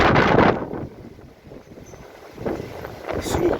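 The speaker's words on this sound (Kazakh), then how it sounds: "Ветер сильный, холодный." A strong, cold wind buffets the microphone in heavy gusts, roaring and rumbling loudly, easing off midway and then surging again.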